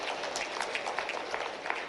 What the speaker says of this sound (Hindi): जोरदार ताली बजा करके नरेंद्र मोदी जी का